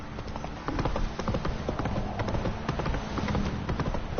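Roach the horse galloping in the video game The Witcher 3, a quick rhythmic clip-clop of hooves running at a steady pace over faint background sound.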